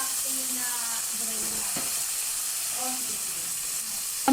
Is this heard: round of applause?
no